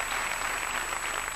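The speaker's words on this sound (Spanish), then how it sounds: "un fuerte aplauso para los chichos" A short, steady burst of audience applause for Los Chichos during a tribute, a dense, even patter of clapping with no talk.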